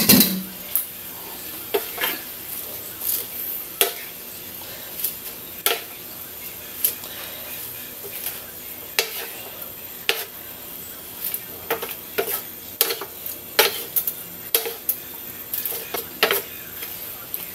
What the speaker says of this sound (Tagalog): Hahaluin ko ng maayos